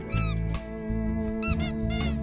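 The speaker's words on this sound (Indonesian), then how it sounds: "mengambil sebuah bola ungu yang mengeluarkan bunyi" A purple toy ball in a Minions cartoon gives off a run of bright, loud squeaks in uneven bursts, and a humming musical score plays beneath them.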